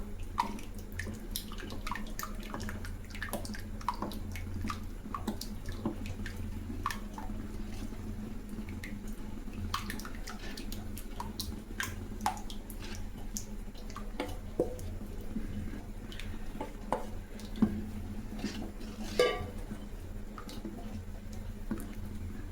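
Water poured into ration rice batter being stirred by hand for crispy rice crisps, soft sloshing, squishing and dripping sounds, quiet and close, without talk.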